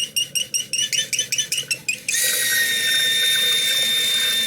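A running toilet tank refilling nonstop: rhythmic gurgling pulses of water give way to a steady, loud hiss of water rushing into the tank, close by with no talking.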